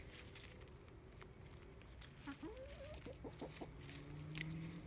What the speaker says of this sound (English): my chickens are out in the yard